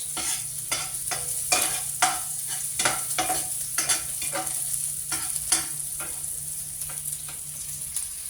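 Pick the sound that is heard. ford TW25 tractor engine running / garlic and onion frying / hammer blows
garlic and onion frying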